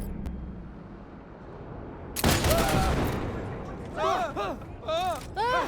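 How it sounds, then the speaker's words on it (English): Sniper rifle shots in the video game Cyberpunk 2077: one heavy blast rings out, followed by a few echoing whooshing reports in quick succession, loud and close. "Okay, this sniper rifle is actually really cool."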